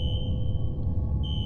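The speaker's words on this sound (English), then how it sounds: "Investigate cause of fire alarm." Fire alarm in the video game F.E.A.R., a loud continuous electronic beeping tone that briefly cuts out and then resumes, over a low steady rumble.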